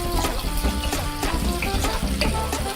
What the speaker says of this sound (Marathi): हे बघा इथे आता आपला कांदा शिजत आला आहे